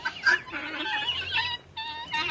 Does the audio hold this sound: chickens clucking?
yes